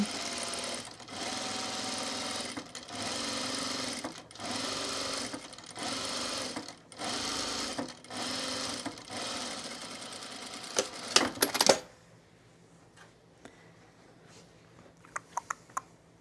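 A sewing machine stitching a French seam on a boho tunic runs close and steady in several bursts with short pauses between them, then stops and leaves only faint handling clicks.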